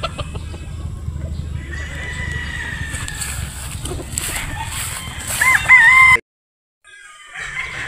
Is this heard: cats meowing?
no